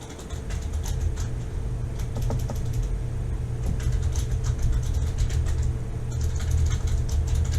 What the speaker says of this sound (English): You can type in an actual working email.